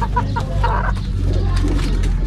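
Chickens and young chicks cluck in a Philippine backyard poultry setting, giving short repeated calls over a steady low background hum, fairly near.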